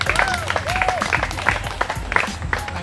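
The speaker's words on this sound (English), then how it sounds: "Give a round of applause for Heather and Molly." Wedding guests clap steadily for Heather and Molly, a moderate, close round of applause with individual claps audible and faint voices mixed in.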